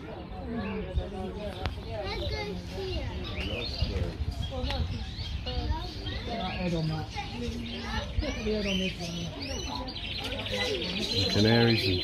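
Canaries, parakeets and other aviary birds in Abington Park, Northampton, chirp and tweet busily close by, with soft cooing mixed in and people talking over the birdsong.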